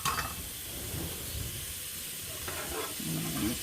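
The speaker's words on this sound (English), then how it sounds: "we're going to let that saute until it's tender" Chopped celery sauteing in a pan for shrimp creole, a steady soft hiss and sizzle with faint stirring clatter, no voices.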